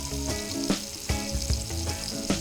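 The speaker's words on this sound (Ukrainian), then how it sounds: "Пожаримо сьогодні рибки." Freshly caught roach and crucian carp sizzle and crackle in hot oil in a pan on a Dnipro river island, with occasional louder spits and pops over a constant frying hiss.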